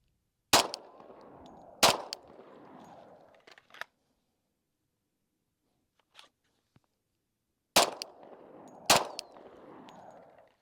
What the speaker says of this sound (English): I'm gonna do 2 rounds on each draw for now